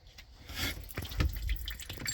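Water trickles and drips from the opened drain plug on the engine block of a 1985 Wellcraft boat during winterizing, a faint, uneven splatter with a few louder drops, heard close up with no talking.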